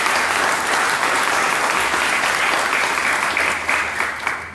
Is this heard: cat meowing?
no